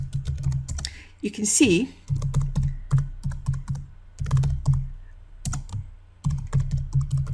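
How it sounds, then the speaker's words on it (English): Bursts of quick, close keystrokes on a computer keyboard clatter in uneven runs with brief pauses while a person talks over the typing. "When you start typing,"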